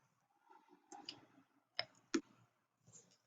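A handful of crisp, separate key presses on a keyboard during a typing practice demonstration, spaced irregularly over a few seconds and fairly quiet, with no talking.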